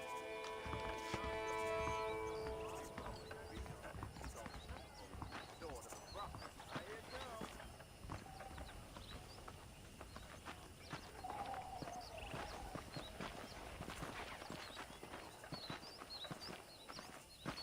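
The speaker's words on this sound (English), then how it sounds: "The horses are saddled up over here." Horses clip-clopping in Red Dead Redemption, steady hoofbeats on a trail under continuous character dialogue and game music, with an occasional whinny.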